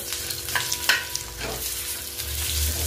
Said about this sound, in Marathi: तर कांदा आपण मस्तपैकी फ्राय करून घेऊ।